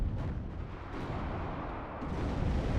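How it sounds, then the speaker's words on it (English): A T-72 tank cannon fires repeatedly in the WARNO strategy game, deep booms landing roughly once a second over a continuous low battlefield rumble, moderately quiet and without speech. "T-72 continuously firing onto the Green Berets"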